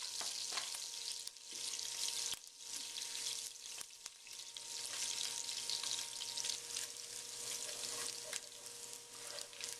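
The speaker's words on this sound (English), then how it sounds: "we're going to add the garlic and let that start to" Garlic sizzles and fries steadily in a hot pan for a chicken cacciatore, a continuous close crackling hiss with occasional stirring scrapes and no talking.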